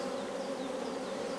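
Honey bees buzz steadily at an angry hive being requeened, a dense, continuous close drone with no pauses or voices.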